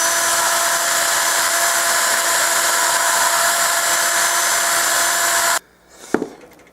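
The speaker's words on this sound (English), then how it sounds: "Here's the little carbide burr on the drill" Small carbide burr on a drill grinding the inside of a coin ring made from a Morgan silver dollar, a loud, steady high-pitched whine held for several seconds before cutting off abruptly, followed by a faint clink.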